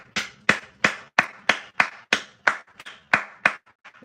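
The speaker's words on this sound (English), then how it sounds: "Round of applause for Bronny James." Steady round of clapping from a small group, about a dozen sharp, evenly spaced claps over four seconds, close and fairly loud, welcoming Bronny James at an NBA training session at TCU.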